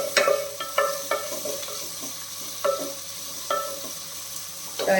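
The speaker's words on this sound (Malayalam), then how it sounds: "അപ്പം നല്ല രീതിയിലൊന്ന് വഴണ്ട് കിട്ടട്ടെ" Prawn biryani masala sautés in a pan, with a soft, steady sizzle under repeated spoon stirs and scrapes that arrive in uneven bursts, all close and moderately loud with no voices.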